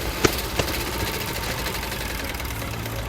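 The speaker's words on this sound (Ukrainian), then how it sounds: "мене вже, походу, в вухах цей дзвін від генератора" Generator engine running, a steady mid-pitched mechanical drone with a vibrating hum that continues evenly throughout, with two brief clicks near the start.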